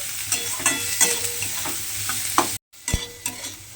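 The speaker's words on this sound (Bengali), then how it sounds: "পেঁয়াজটাও কিন্তু একটু ভাজা ভাজা মতো করে নিতে হবে।" Onion and green chillies fry in a pan with a close, continuous sizzle, broken by repeated scraping stirs and a brief moment of silence near the end.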